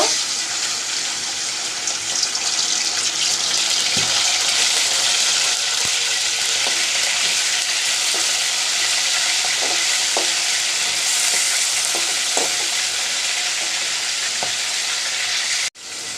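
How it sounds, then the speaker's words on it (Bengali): Thin julienned chicken strips fry in hot oil with a loud, steady, hissing sizzle that runs unbroken, with a few faint clinks now and then. "মাংসটাকে আগে তেলের মধ্যে একটু বেজে নিব"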